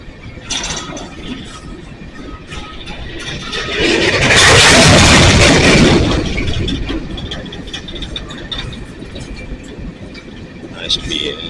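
An empty coal train rumbles past and slows, its brakes rising to a loud grinding squeal mid-passage before easing back to a steady rolling rumble, with faint talk nearby.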